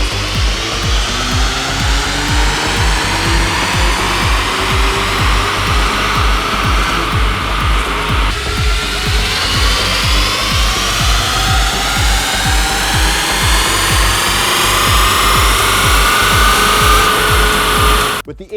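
A VW MK8 GTI with an APR Stage 1 tune on 91 octane runs hard on a dyno, engine roaring steadily and loudly with rising pitch sweeps as revs climb, then cutting off abruptly at the end.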